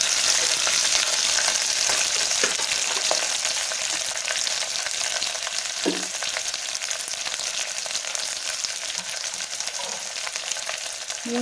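A lump of asafoetida fries in hot oil as the tempering for Tamil Nadu sambar, giving a steady, close hiss of sizzling with a few faint clinks and stirs over about eleven seconds.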